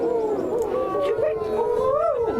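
Several audience members imitate owl hoots at once, overlapping wavering voiced calls that rise and fall continuously, close and fairly loud, with no other talk.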